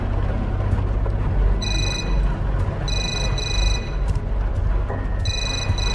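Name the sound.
phone ringing upstairs in a video game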